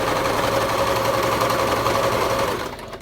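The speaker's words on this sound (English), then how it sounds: "now we can move over to the sewing machine. And then you just run the machine along" A sewing machine runs steadily, stitching a fabric face mask at home, its continuous close whir holding for about two and a half seconds before tapering off as the machine slows to a stop.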